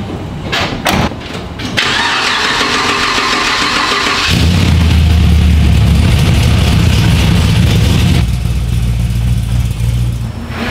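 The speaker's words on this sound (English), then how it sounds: "So first we're gonna start off with the red Camaro. I'm gonna pull it out." A red Chevrolet Camaro's engine cranks and fires up, settling into a loud, steady rumbling idle close by, then a deeper throatier surge as the car is pulled forward.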